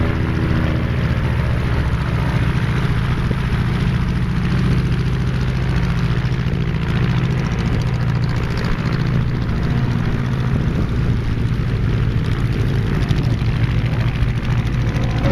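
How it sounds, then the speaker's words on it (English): A steady, loud engine drone throughout, low and continuous, from a home-built light propeller aircraft with a 39-horsepower engine passing close at a country fair, with no break in the sound. "These are basically home-built aircraft which have achieved a remarkable reputation."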